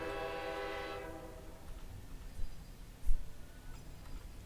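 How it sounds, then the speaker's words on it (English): A ship's air horn in the video game Girls Frontline 2: Exilium blasts briefly and loudly at the start, a harmonic tone cutting off after about a second, followed by faint low rumble and a couple of soft thuds. "It must have been the vessel's air horn."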